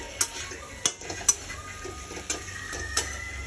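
Masala for rupchand fish stir-fried in a pan, a faint, low sizzle broken by a few sharp spoon clinks against the metal, with nobody speaking.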